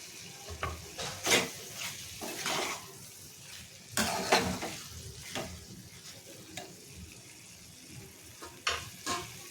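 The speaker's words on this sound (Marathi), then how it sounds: "आता फक्त आपल्याला दोन मिनटं अशीच ती परतून घ्यायचे" Ridge gourd (dodka) with coriander is stir-fried in a pan, soft sizzling broken by repeated scraping strokes of a spatula against the metal, irregular and close, with no talk.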